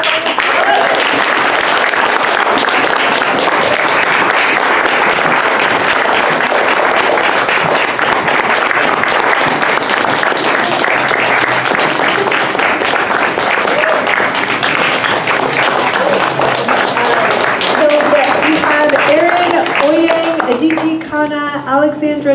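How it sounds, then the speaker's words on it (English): Long, full round of applause at a youth writing awards ceremony, a large crowd clapping steadily for over twenty seconds, with a voice starting to speak over it as it fades near the end. "So please give them a round of applause"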